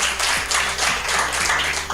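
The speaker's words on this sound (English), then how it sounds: "Can we all clap for the people of Kasese?" Audience clapping for the people of Kasese at a Rwenzori Marathon event, a dense, fairly loud burst of many hands applauding steadily throughout, alone without talk.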